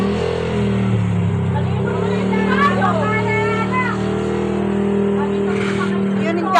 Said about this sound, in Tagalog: Kanina ka pa motor ng motor.